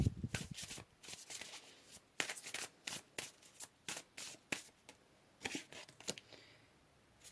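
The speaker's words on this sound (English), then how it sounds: "Let's go ahead and pull some more cards." Tarot cards are shuffled up close in quick, crisp bursts of riffling and sliding, then pulled from the deck. The sound is soft and intimate, with no speech.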